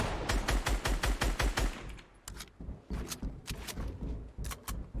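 Rapid gunfire in an online shooter game: a fast, loud volley of close shots, a short break, then further uneven bursts of shooting.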